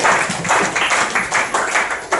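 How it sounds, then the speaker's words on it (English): A crowd applauds at an event in the House of Commons, British Parliament, with dense, steady clapping running the whole time and a few louder swells. "Big round of applause for them also."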